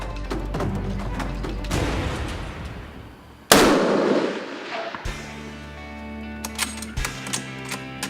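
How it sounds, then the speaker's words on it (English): A single sharp, loud hunting rifle shot fired at a deer during a Pennsylvania buck hunt, cutting through wind and outdoor noise. A rumbling echo trails off afterward. "And gives Matt a perfectly broadside shot, and this time, he makes it happen."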